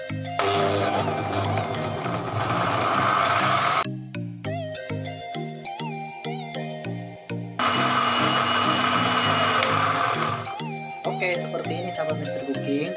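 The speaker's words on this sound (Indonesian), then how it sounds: "Blender." Kitchen blender grinding sambal paste of chili with a little added water, a loud steady motor whine in two long bursts with a short stop between, close up.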